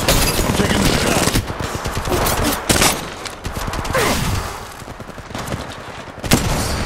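Rapid automatic gunfire rattles through an Apex Legends battle, loud and close, in sustained bursts broken by short gaps and single sharp shots.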